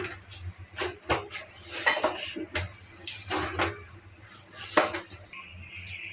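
A metal cooking pot is picked up and handled in a home kitchen, giving a series of close, sharp clanks and scrapes of metal on metal at an irregular pace.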